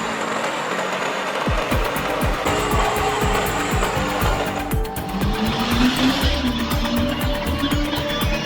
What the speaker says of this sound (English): 810B is capable of pulling, cutting and transporting large logs with ease.